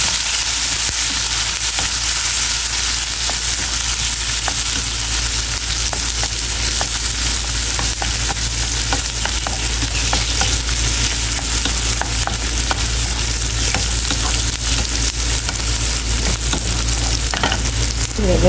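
Onion and chili sizzle loudly in a hot pan and are stirred throughout, a dense steady frying hiss broken by scraping and clinking of the spoon against the pan, close up with no talk.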